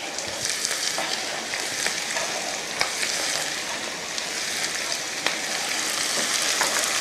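Onion and green pepper fry in a pan, giving a dense, steady hiss of sizzling oil, with light intermittent scrapes as two spoons turn the pieces.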